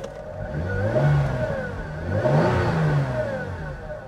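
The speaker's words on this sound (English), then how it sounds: "I'll bet that whine is the transmission." A 2011 Hyundai Genesis Coupe engine revs up twice in rising and falling swells while a thin transmission whine glides along with it. No talking.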